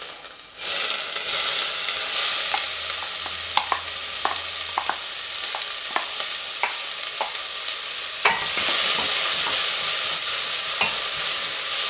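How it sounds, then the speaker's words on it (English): Onion frying in hot oil in a pan: a steady, loud sizzle with scattered spatula taps and scrapes, swelling briefly near the end; no voices. "what I'm doing now is I'm just busy cooking the onion until like it's cooked"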